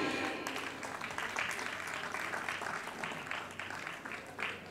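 Audience applause at an official ceremony for a Sikkim–Uttar Pradesh memorandum of understanding, greeting a new batch; steady, dense clapping fills the hall throughout at moderate level.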